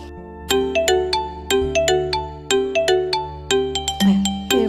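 A phone ringtone plays loud and close, a bright melodic sequence of chiming electronic notes repeating in short phrases, with no talk over it.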